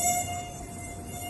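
A mosquito buzzes with a thin, steady, high-pitched drone that holds without a break, fairly loud and close, in a malaria prevention skit.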